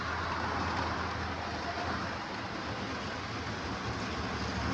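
A Lionel FM Trainmaster, a 1980 MPC-era Chicago and Northwestern locomotive with dual Pullmor motors, rolls steadily around O42 curves, giving a continuous close rumble and hum of motors and wheels on track with no talk.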